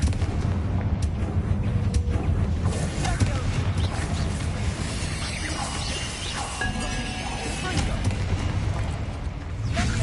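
Confringo blasting spell cast in the Hogwarts Legacy video game, a string of booming blasts and bursts that stays loud through ten seconds of dense game noise.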